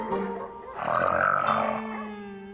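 A woman gives one loud, drawn-out rasping snore that swells in the middle and fades, heard close and alone in a comedy scene.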